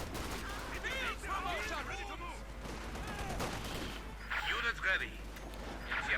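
Rapid gunfire bursts and a grenade blast ring out during a Company of Heroes 2 one-versus-one match, OKW against US Forces infantry fighting in a building. The fire is dense and continuous, with a louder crash-like burst near the end.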